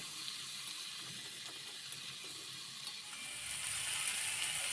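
Tomato and slit green chillies with ginger frying together in a pan, a steady close sizzle with faint crackles and occasional scraping, no voices.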